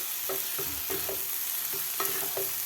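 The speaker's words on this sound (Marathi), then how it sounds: "आता आपल्याला व्यवस्थित हे मिक्स करून घ्यायचं आहे खालच्या मसाल्यामध्ये." Kurdai gets stirred into an onion masala in a pan. A spatula scrapes in a steady rhythm of about eight soft strokes over a faint, even sizzle, close up, with no voices.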